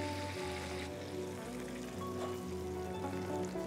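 Chicken pieces frying in hot oil on a stove, a steady dense crackle and hiss like light rain that holds evenly throughout, close and continuous with no talking.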